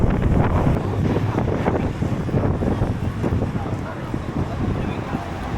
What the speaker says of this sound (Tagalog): Buti medyo mahangin ngayon